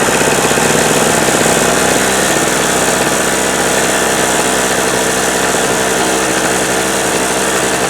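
A restarted engine running continuously, loud and close, with a rough, steady mechanical roar that stays even for the whole stretch and has no voices over it.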